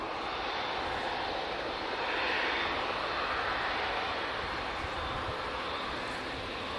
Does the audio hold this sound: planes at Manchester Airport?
yes